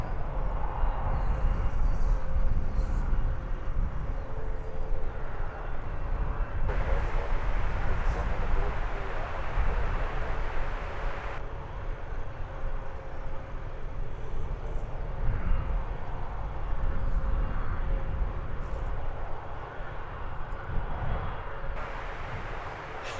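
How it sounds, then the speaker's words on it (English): A Wizz Air airliner arriving from Warsaw at London Luton Airport gives a steady, loud engine roar that holds throughout, with a brief shift in tone midway. "Arriving from Warsaw, this is Wizz Air flight 1301."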